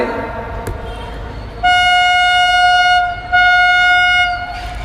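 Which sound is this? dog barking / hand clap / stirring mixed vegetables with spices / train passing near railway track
train passing near railway track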